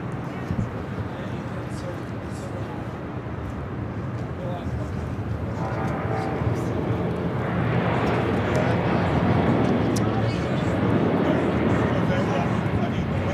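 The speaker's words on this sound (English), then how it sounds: "is American Airlines, flight 136, taking off to London Heathrow" An American Airlines airliner, flight 136 to London Heathrow, takes off as a broad jet roar that builds steadily and grows louder toward the end, heard from a distance under intermittent talking.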